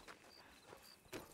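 Horse hooves clip-clop in a Red Dead roleplay video game, a grey horse stepping in a few soft, uneven beats with a sharper knock near the end, faint amid ambient game noise and no talk.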